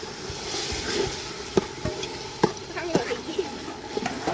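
Onion pieces tossed into a hot pan for a village-style Gujarati brinjal olo, a steady soft sizzle with several sharp clinks of a spoon against the pan as it is stirred, close and moderately loud.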